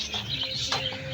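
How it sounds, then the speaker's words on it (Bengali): Cockatiels chirping close by, with short repeated high tweets over a steady background hum, no talk. "ককটেল পাখি"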